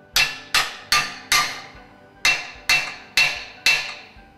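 Metal hammer blows ring out against the strap of a Grundfos SP 77 or SP 95 submersible pump being straightened: eight loud, sharp strikes in two groups of four, each with a short metallic ring, close by with no talking.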